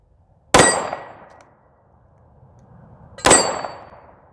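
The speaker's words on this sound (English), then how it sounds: "put a few rounds downrange with this 9mm" 9mm pistol with a mounted LED light fired downrange at a shooting range, two sharp loud shots about three seconds apart, each with a short decaying echo, no voices.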